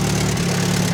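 A built Mitsubishi Evo X with a PT6466 turbo idles near the microphone, a low steady rumble with a faint puffing tick from an exhaust leak on the downpipe, and no voices.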